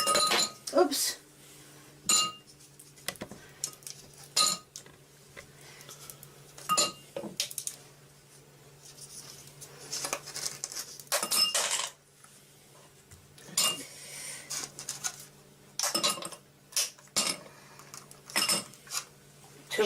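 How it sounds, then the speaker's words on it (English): Ice cubes clink and rattle as they are twisted and pressed out of a tray, giving repeated sharp bursts of clatter at irregular intervals, with a person speaking briefly between them. "She's hurting her hands getting the ice cubes out."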